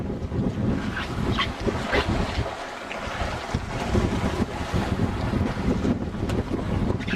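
A sailboat under way at sea out of Darwin around Groote Island at sunset, with steady broadband wind rushing across the microphone and water washing against the hull throughout, no speech.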